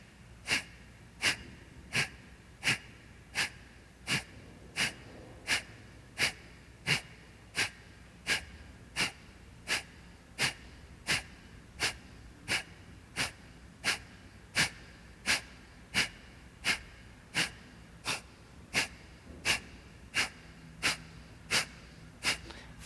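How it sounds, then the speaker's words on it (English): Short, sharp exhale breaths in a yoga breathing exercise, a long run of evenly spaced forceful puffs about one every three-quarters of a second, close and steady throughout. "we'll do again one more round of short, quick exhale breaths."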